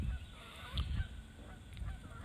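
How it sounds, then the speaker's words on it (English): Canada geese honk a few times overhead at a distance, their calls rising over a steady low rumble of wind. "You can hear the Canadian geese overhead."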